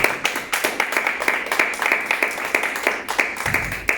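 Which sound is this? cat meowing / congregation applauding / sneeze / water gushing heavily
congregation applauding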